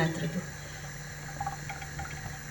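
Vegetable oil pours into a thick-bottomed cast iron skillet with a soft, steady liquid trickle that fades after a brief initial splash.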